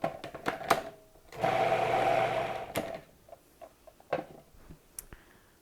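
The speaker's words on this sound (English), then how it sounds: "you want to let this blend until it is nice and smooth and creamy" A blender whips feta into a smooth, creamy dip, running steadily for about a second and a half amid scattered clicks and knocks of kitchen handling.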